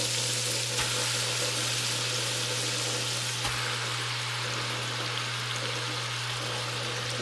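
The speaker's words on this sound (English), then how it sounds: "I do have my Instant Pot on saute mode, and I'm just gonna let this melt. Now I'm just gonna start throwing all of this beef in here." Beef browns in melted fat inside an Instant Pot on sauté mode, giving a dense, steady, close sizzle like rain on a surface, with an occasional soft knock and a low appliance hum underneath.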